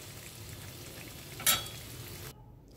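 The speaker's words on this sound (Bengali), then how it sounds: "এবার এই মাটনগুলো আমি সব এই কষানো মশলার সঙ্গে যোগ করে দেবো, দিয়ে ভালো করে এটাকে কষিয়ে নেব" Mutton pieces fry in a spiced masala for Bengali mutton kosha, a soft, low sizzle with one sharp clatter partway through, after which the sound drops away.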